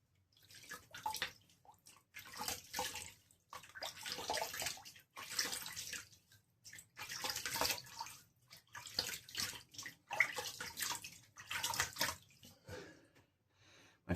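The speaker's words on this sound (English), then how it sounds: "So I'm going to get my face wet" Water splashing from a running tap as a person cups it and wets their face, repeated close scooping splashes with brief pauses between them, no talking.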